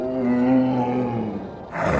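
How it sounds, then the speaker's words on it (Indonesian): Siberian tiger roaring: a single deep, rumbling roar with strong low harmonics, loud and close, tailing off before a brief noisy burst at the end. "Tapi perbandingan suara ini milik harimau Siberia."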